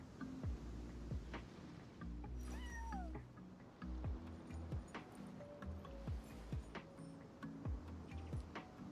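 A cat meows repeatedly in Genshin Impact over soft game music, the calls rising and bending, moderately close and clear, with no talking.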